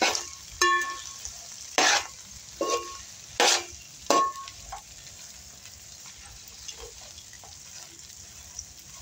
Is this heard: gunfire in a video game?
no